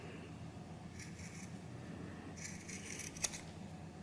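Scissors trim a sewn fabric crossbody bag strap, giving a few quiet, soft snips and rasps spread across the moment, with one sharper click near the end, all faint against a still room.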